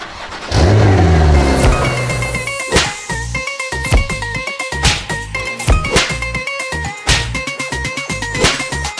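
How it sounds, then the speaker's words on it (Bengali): A bus engine cranks and catches, then revs repeatedly in loud, close bursts over a rough idle, with a rhythmic clatter running through it. "উস্তাদ গাড়ি স্টার্ট দেন।"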